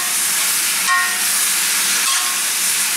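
Beef dropped back into a hot wok with onions for Chinese pepper steak, a dense, loud, continuous hiss of sizzling close by with a brief metallic clink, no talking.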